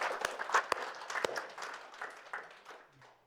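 A small house-church congregation claps, with a few sharp, distinct hand claps early on followed by quieter, uneven clapping that thins out and fades.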